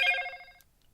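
A mobile phone gives a short electronic ringtone chirp, a single bright tone fading within about half a second in an otherwise quiet room.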